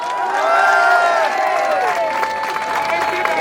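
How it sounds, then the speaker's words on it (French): A crowd claps and cheers at a gathering, with a brief swell of applause under loud overlapping voices and shouting. "Applaudissez fort, très très fort."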